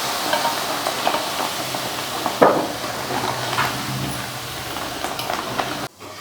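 Curry leaves tempered in hot oil: a continuous close sizzle and crackle with a sudden louder burst partway through, then a brief drop before the frying resumes.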